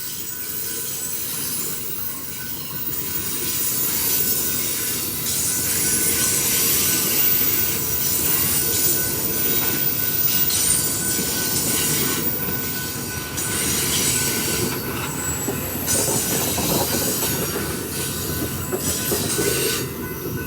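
A passenger train hauled by ALC-42 locomotives rolls steadily past close by in Whitefish, Montana, a continuous rumbling roar of wheels on rails with faint metallic squeals throughout.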